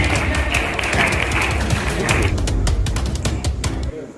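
A crowd at a ceremony marking Dr. B.R. Ambedkar's Mahaparinirvan Diwas applauds to honour the general secretary with a shawl, a dense, steady wash of clapping that holds for about four seconds before thinning out at the end.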